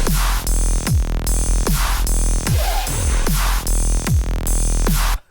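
Fat, buzzy Serum synthesizer saw-wave bass playing a repeated pattern of punchy notes with falling pitch sweeps, loud and close, no voices.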